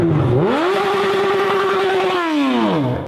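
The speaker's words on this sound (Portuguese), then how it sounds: "É você estourar o cano de descarga no barulho estridente." A motorcycle's engine revs hard, pitch sweeping up, holding a loud strident exhaust roar for about two seconds, then dropping back down, close and alone.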